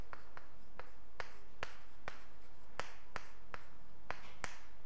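Chalk or marker writing on a board, a steady series of about a dozen crisp taps and short scratchy strokes in an irregular rhythm, close and fairly quiet.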